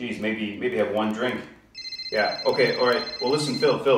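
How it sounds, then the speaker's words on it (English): An incoming call rings on a phone in a comedy skit: a short high electronic ring tone sounds under someone talking on another phone, his speech continuing over it. "I got another call coming in on my other phone here."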